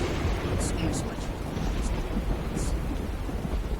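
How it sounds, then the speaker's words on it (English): Steady rain with rumbling thunder in the video game Skyrim, a continuous dense wash of noise without pauses. "it's raining"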